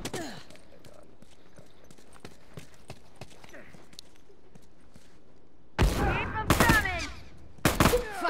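A scoped rifle fires in The Last of Us, first as sparse faint sharp cracks over quiet ambience, then as loud bursts of heavy gunfire with ringing echoes near the end.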